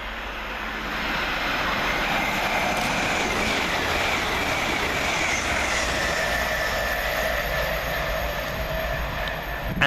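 A Lumo Class 803 train, running from Edinburgh Waverley to London King's Cross, passes through Welham Green station with a sustained rushing roar. It swells and holds for several seconds, then eases slightly toward the end, with no talking.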